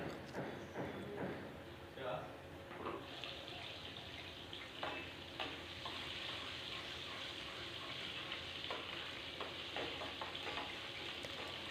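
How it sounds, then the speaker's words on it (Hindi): Finely chopped garlic sizzles and fries in hot oil for dhaba-style Punjabi rajma, a steady close crackle with occasional stirring clinks throughout. "अब इसको करना है हमने हल्का सा, इसको गोल्डन कलर करना है ये लहसुन को।"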